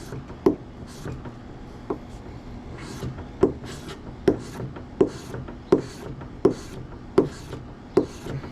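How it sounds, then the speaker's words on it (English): A SOG Traction folding knife blade is drawn repeatedly along a wooden 2x4, giving a series of sharp scraping strokes roughly every second, each with a crisp woody attack, close and clear with no talk. "we'll run the blade multiple times on a 2x4"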